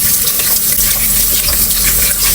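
Tap water gushes steadily into a sink for washing in a home kitchen, a loud, close, unbroken rushing splash with no pauses.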